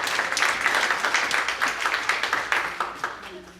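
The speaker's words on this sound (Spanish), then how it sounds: "Le vamos a dar un fuerte aplauso" A church congregation claps for a first-time visitor, a quick run of fairly close, uneven hand claps from a modest group, with a voice speaking over part of it.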